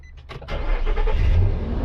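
A truck engine cranks briefly with a few stuttering starter pulses, catches and settles into a steady, deep idle rumble close by, with no talk over it.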